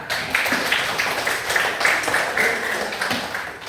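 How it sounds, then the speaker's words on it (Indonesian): A classroom of students claps for a classmate's correct answer in a maths lesson, a brief burst of scattered clapping at moderate loudness with little talk. "Oke, tepuk tangan sekalian semua."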